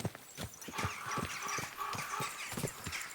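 Hooves clip-clop as a horse walks along a trail in Kingdom Come: Deliverance 2, an even stream of hollow thuds set over faint outdoor ambience at moderate loudness, with no talking.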